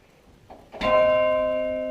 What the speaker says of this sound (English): each of these plays a single note, that is to say a single bell up in the tower